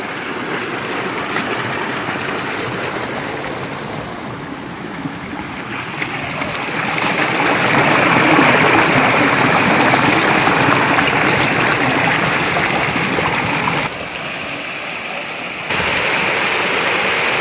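Loud, steady rush of a waterfall and flowing stream at a hot-spring resort in Kusatsu, Japan, a broadband roar that swells louder midway and dips briefly near the end, with no voices.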